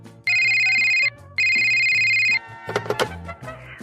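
A telephone rings in two long electronic bursts, then a few clunks and handling knocks as the call connects, close and with no talk.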